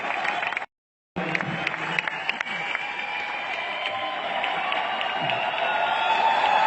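An audience claps for a speaker at an event, sustained applause filling the room, briefly cut off by a short gap of silence, then resuming and swelling slightly louder toward the end.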